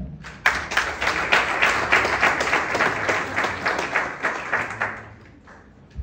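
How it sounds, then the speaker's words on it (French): Audience at a political party launch in Haiti applauding the party's founders, a lively crowd clapping that rises quickly, holds steady, then fades out toward the close. "Priez de les applaudir"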